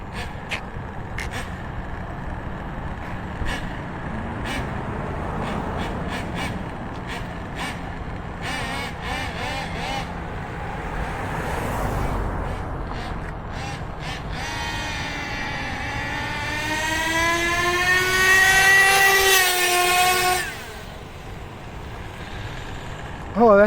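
An OFNA Titan Twin RC truck with a new turbo, driven at full throttle. A buzzing engine drone sets in, then climbs into a loud, high, wavering rev toward the end before cutting off abruptly.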